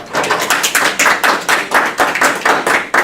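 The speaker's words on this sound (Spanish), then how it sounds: "Aplaudámoslo primero." Small audience applauding after a talk at a mathematics department colloquium, a brief burst of loud, uneven, rhythmic clapping close by, with no speech.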